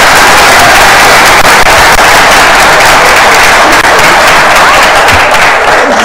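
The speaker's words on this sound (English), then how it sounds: "We'll give one more big round of applause" A large audience at a high school seniors' letter-of-intent signing gives loud, dense, continuous applause that fills the room without pause.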